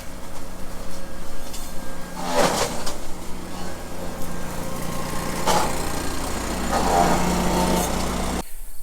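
A Ventrac Tough Cut mower engine drones steadily and loudly on a steep slope beside a farm pond, rising in strain at moments as it pushes through thick brush, with occasional rustling bursts.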